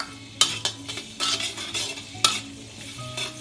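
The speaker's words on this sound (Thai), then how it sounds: "เปิดไฟขึ้นนิดนิดนะคะก็เอากระเทียมลงไปผัดเลย" Garlic stir-fried in hot oil in a pan over raised heat, with a steady sizzle and repeated sharp scrapes and clinks of a utensil stirring against the metal, fairly close and with no voices.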